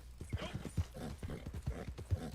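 Hooves of a black Turkoman horse clip-clop at a steady walking rhythm in Red Dead Online, close and fairly loud, with low thudding beats.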